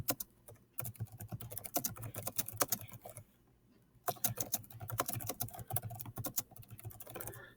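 Typing on a computer keyboard: close, quiet runs of rapid key clicks in two bursts separated by a short pause, with no voices.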